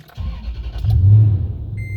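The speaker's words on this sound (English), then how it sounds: "Let's start the truck and see what happens." A truck with a newly fitted battery cranks briefly and its engine catches, settling into a loud, close rumble.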